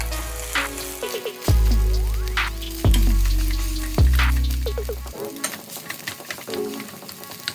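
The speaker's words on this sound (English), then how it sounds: "now go ahead and stir fry everything together" Shrimp fried rice is stir-fried in a hot pan, with steady sizzling broken by several sharp scrapes and clanks of a utensil against the pan, all close and fairly loud.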